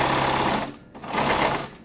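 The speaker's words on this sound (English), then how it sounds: "I'm just going to slide it in really easy and sew a seam with that on the inside" Sewing machine stitching a seam along the inside of a fabric face mask with a pipe cleaner nose piece slid in, a steady close whirring run that dips briefly before resuming at full speed.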